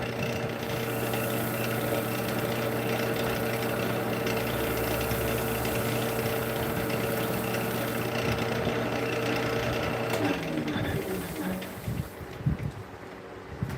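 A metal lathe without reverse runs steadily in a workshop, a continuous mechanical hum with tonal whine that holds for about ten seconds, then shifts and winds down into irregular clatter near the end.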